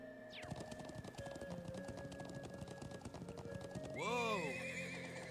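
Rhythmic horse hoofbeats gallop steadily in the video game The Legend of Heroes: Trails of Cold Steel on PS4, under a sustained tonal background, ending in a loud horse whinny near the end.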